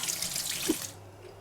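Water sprays steadily from a new dispenser, a soft hissing spray that stops after about a second and leaves a quiet background.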